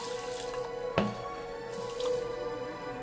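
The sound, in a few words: washing rice and lentils in water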